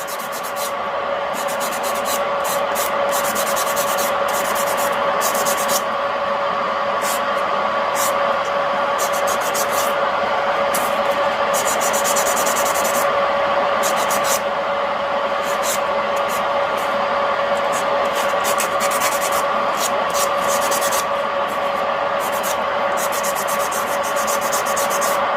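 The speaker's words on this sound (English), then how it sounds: "I'm just going to go in with a buffing block." A buffing block rubs back and forth across fingernails during hard gel prep, a steady close scratchy rubbing that runs throughout beneath a constant background hum.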